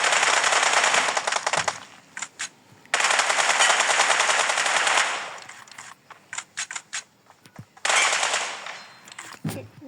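Automatic weapon fire from the video game PUBG Mobile, loud rapid bursts of shots that cut on and off across the clip with short gaps and a few single shots between them.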